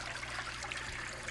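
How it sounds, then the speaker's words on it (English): Water running and trickling back into an aquaponics fish tank from a cup, a steady close hiss of falling, splashing water with a low hum underneath, continuous throughout. "It's running water."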